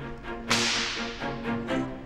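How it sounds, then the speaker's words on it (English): Several sharp whip cracks, the tip breaking the sound barrier, with one loud snap standing out among fainter cracks spread over about two seconds, heard over a steady musical drone. "The crack, or sonic boom we hear, is that abrupt change in pressure or shockwave hitting our eardrums."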